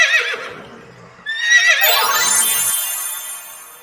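Horse neighing in a farm setting, two loud close whinnies: a short shaky call, a brief pause, then a longer quavering neigh that trails off.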